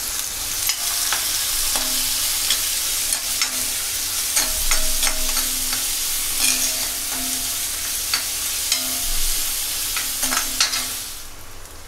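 Curry leaves, green chili and onion hit hot tempering oil, a loud continuous sizzle and crackle with stirring scrapes throughout, close up and without talk.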